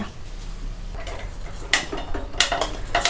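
Clinks and clatters of fruit and milk being dropped into a mixer jar for a smoothie, a few sharp knocks in quick succession over a low kitchen hum.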